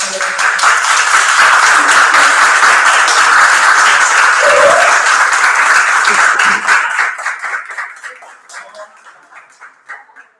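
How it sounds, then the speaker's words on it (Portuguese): Applause from a lecture audience at the opening talk of an artistic residency: dense, steady clapping for several seconds, with a short voice cutting in midway, then thinning out and fading near the end. "eu quero pedir uma salva de palmas"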